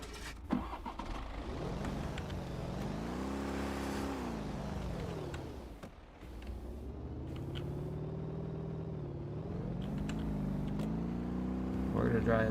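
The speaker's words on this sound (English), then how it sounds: "I'm trying to start the car." A car engine in the video game DayZ cranks, catches and revs, its pitch rising and falling in long sweeps as the vehicle drives off, loud and continuous with someone talking over it.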